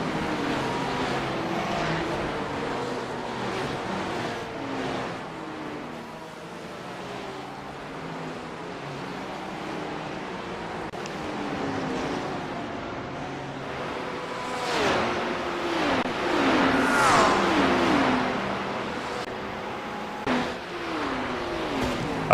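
Race cars roar through a night endurance race on the Nürburgring Nordschleife in a GT racing video game, engine notes rising and falling continuously with overlapping cars and a louder surge near the end.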